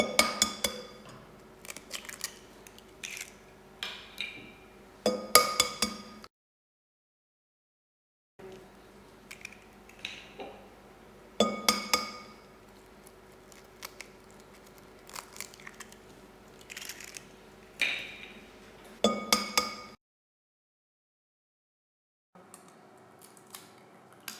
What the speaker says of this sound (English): we're going to whisk 5 eggs into the big bowl